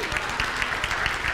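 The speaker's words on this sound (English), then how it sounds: "Now give yourself a round of applause." Round of applause from a small audience at a spiritual community gathering, steady dense clapping filling the short moment without any speech over it.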